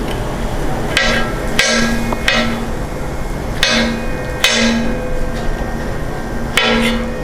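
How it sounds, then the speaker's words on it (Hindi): Tomatoes roughly chopped with a knife on a board while cooking tawa fry kaleji, a series of sharp, close knocks at an irregular pace, some in quick pairs. "सबसे पहले काटेंगे अपना टमाटर।"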